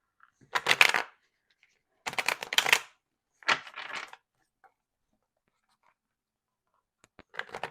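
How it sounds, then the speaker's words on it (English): A deck of crystal oracle cards being shuffled in three quick riffling bursts separated by quiet gaps, then a fourth short burst at the end, close and fairly soft with no talk. "That was not a great shuffle."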